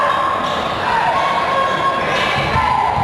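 A crowd at a high school basketball game between Hillsboro and Brentwood roars and cheers in a steady, loud wash, with shouts rising over it and the bounce and thud of a ball under the noise.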